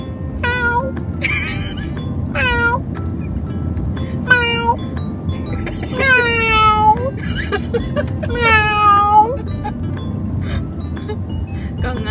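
A cat meows repeatedly, clear and close, with some calls drawn out into longer wails, over a steady low background rumble.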